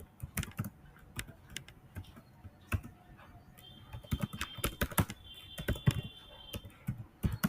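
Typing on a computer keyboard while writing Python code, quiet irregular bursts of key taps and clicks up close, with faster flurries in the second half and no talk.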